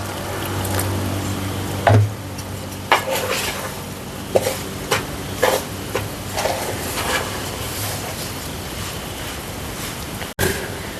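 Rice flour dough with cumin is worked by hand with boiling water in a bowl, giving wet scraping and squelching with sharp clinks and knocks at irregular intervals.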